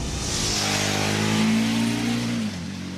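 A 2010 KTM 990 SMT motorcycle engine revs up close and loud, its tone climbing and holding briefly before dropping back to a lower idle.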